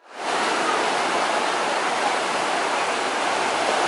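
Ocean surf at Old Orchard Beach, Maine rolls in as a steady, loud, broadband wash of breaking waves with no pauses.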